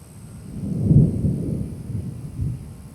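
Low rumbling thunder from a lightning strike over Tampa Bay, Florida at night, a deep rolling swell that peaks early and then lingers in broad low-end murmurs, fairly loud and with no voices.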